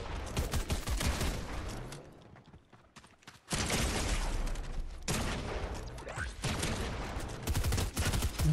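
Rapid bursts of automatic gunfire in the video game Fortnite, dense loud volleys with a brief lull before shooting resumes and keeps hammering to the end.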